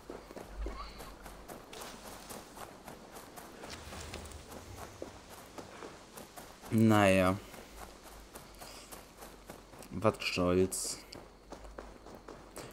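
Footsteps of a character running on foot in the video game Assassin's Creed Valhalla, a soft rapid patter heard under someone talking, with two brief louder vocal bursts.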